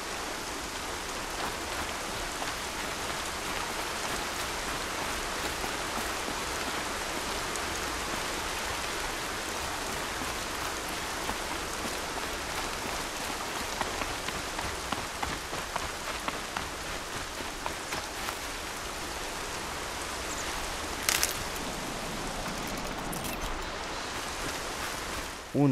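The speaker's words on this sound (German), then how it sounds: "Und es regnet, Leute." Steady, dense hiss of heavy rain falling on surfaces in the video game Horizon Zero Dawn, constant and enveloping, with occasional faint clicks and taps near the end.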